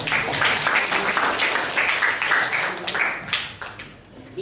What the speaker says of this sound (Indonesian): Oke, tepuk tangan buat Raya.